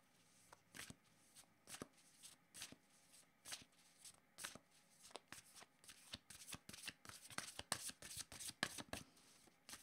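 Tarot cards are shuffled by hand at close range, a rapid run of crisp riffling slaps and flutters that quickens and packs tighter toward the end, heard alone at a low level.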